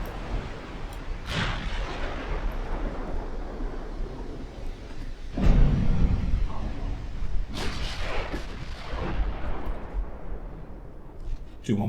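Heavy naval shell impacts strike a turtleback battleship at close range in Ultimate Admiral Dreadnoughts, with deep booming hits near 1.5, 5.5 and 7.5 seconds over a constant rumbling battle din, and someone talking throughout.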